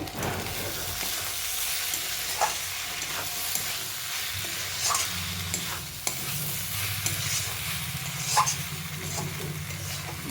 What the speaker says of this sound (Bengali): জিরে গুঁড়ো দিয়ে আবারও সামান্য কিন্তু একটু নাড়াচাড়া করিয়ে নেব